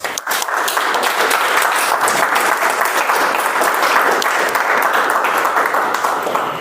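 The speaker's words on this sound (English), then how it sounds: "I want you all to give a huge round of applause to all of the guests who just introduced themselves" A room full of people at a Toastmasters meeting breaks into loud, dense applause that holds steady for several seconds, with many hands clapping at once.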